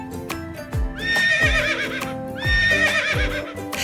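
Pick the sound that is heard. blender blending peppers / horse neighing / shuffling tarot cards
horse neighing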